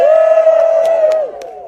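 Audience at a live tech event cheering and whooping on cue, a loud sustained crowd shout that holds steady then drops off after about a second.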